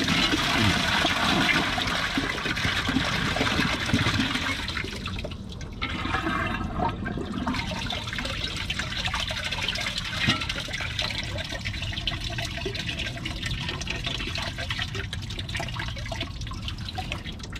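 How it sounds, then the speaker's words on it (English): A second flush of a toilet partly filled with thick tissue paper: loud rushing water up close that eases into lighter trickling and dripping as the bowl refills. "Second flush, let's see if it takes the rest or if it clogs."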